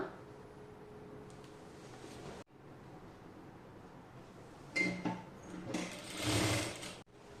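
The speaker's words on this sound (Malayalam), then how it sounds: "ലൈനിങ്ങിൻ്റെ താഴത്തെ സൈഡ് ഇതുപോലെ അര ഇഞ്ച് പ്ലസ് അര ഇഞ്ച് മടക്കിയിട്ട് തയ്ച്ചെടുക്കുക" Sewing machine stitching the folded lining hem of a kurti, running in steady bursts with a short pause, then a louder, faster run near the end.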